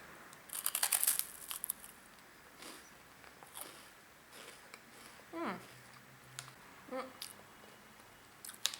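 Someone eating a Pokémon Candysan wafer candy, crisp crunchy bites and chewing near the microphone, loudest early on, then intermittent softer crunches with brief voice sounds between.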